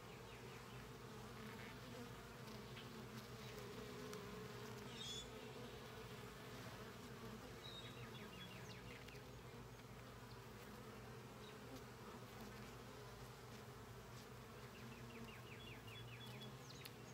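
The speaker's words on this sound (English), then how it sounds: "Bees, plenty of bees at work." A dense, steady drone of many honeybees buzzing close by at an open hive, continuous and layered, with occasional individual bees passing near.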